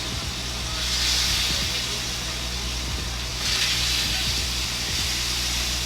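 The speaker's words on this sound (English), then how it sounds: "Go down with our shanks" Lamb shanks searing in a hot pan give a loud, steady sizzle and hiss that swells twice, close and continuous with no talk.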